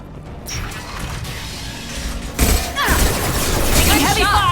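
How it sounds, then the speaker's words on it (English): Heavy gunfire in the Mass Effect 2 video game keeps up a dense, loud barrage with crashing impacts, and a harder burst of shots hits midway and stays intense to the end. "Taking heavy fire!"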